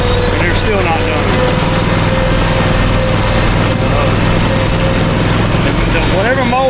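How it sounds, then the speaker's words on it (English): A lawn mower runs steadily on a yard being cut by a crew, its engine drone continuous and fairly loud, with voices talking over it. "Whatever mower he's got is cutting like shit"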